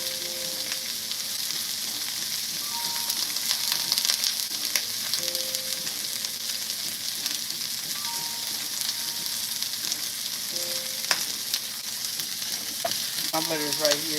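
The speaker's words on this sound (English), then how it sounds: "I'm gonna put a little bit of butter on the bread, and I'm gonna toast it on the pan" Buttered bread toasting in a frying pan, a steady close sizzle and crackle of butter that carries on throughout, with no one talking.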